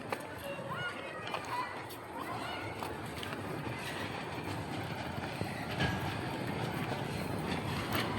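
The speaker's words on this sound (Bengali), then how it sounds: "ট্রেন চলে যাচ্ছে ঢাকা থেকে" A passenger train passing outdoors on a line near Dhaka toward Narayanganj, a continuous rolling clatter with rhythmic wheel clicks and occasional squeals, heard at moderate distance with people talking nearby.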